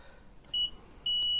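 Two short, high-pitched electronic beeps from a circuit tester on a grid-tie inverter, the second held longer, clear and close against a quiet background.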